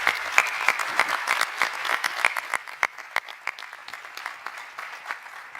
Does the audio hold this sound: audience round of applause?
yes